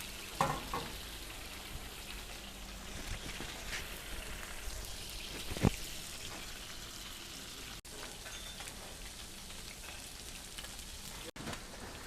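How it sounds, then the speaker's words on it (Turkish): Whiting fish frying in oil in a pan, a quiet continuous crackling hiss with a few clicks and one sharper knock of utensils, close and without talk. "Bir taraftan bu şekilde kaydırdığınız anda hop balığımız direkt tavada."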